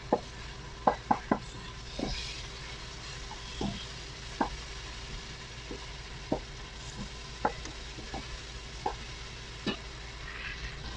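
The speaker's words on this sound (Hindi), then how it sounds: "मसाला फ्राई करने के बाद हम इसमें डालेंगे चने की दाल," Boiled chana dal frying with spices in a pan gives a steady, low sizzle, punctuated by scattered sharp taps and scrapes of a stirring spoon against the pan, with no talking.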